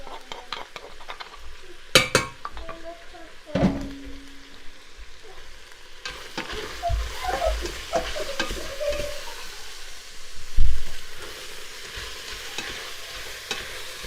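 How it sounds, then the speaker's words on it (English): Meat and garlic sizzle steadily in a hot frying pan, with a utensil stirring and scraping and occasional clinks against the pan throughout, close and continuous with no talking. "So, and the meat is still frying."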